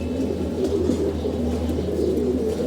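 Pigeons in a home loft coo steadily at feeding time during Ramadan, a continuous low, rolling murmur of several birds layered together close by, with no talk.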